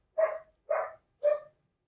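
Three evenly spaced barks from a dog, each short and sharp with quiet gaps between, moderately distant and alone with no talk.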